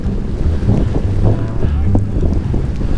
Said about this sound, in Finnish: Hieman tuuliset sääolosuhteet.